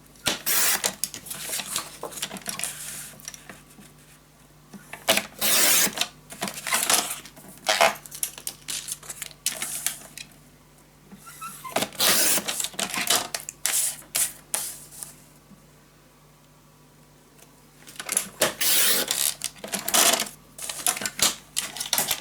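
Scissors or a trimmer cut paper for a spooky-season pop-up scrapbook mini album, giving close, crisp bursts of snipping and sliding strokes in several clusters, with quiet pauses between them.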